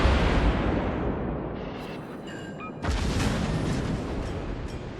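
Heavy naval gunfire from the cruiser Chapayev in World of Warships, a dense run of loud booming salvos that dips briefly and then comes back as another strong burst, with no talk over it.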